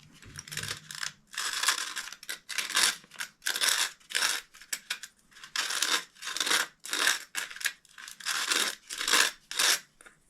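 A sharp Stanley knife blade slicing through a thin metal drink can to make a penny stove, heard as repeated rasping, scraping strokes in uneven bursts with short pauses between, close up and with no talking.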